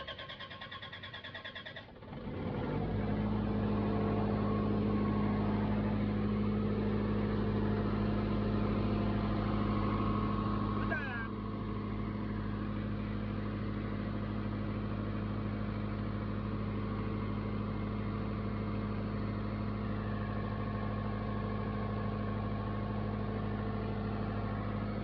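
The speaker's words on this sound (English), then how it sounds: "So after that we have to start the generator" A soundproof generator engine starts up and settles into a steady, loud, even running drone. Its tone shifts slightly midway and then holds constant to the end, with no talking.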